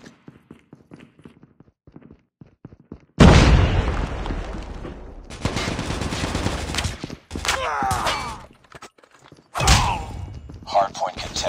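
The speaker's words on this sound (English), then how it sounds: "Grenade out!" A grenade blast in Call of Duty Mobile: after a quiet stretch of light ticking, a sudden loud boom erupts and rolls on with rumbling gunfire and further bangs, voices mixed in.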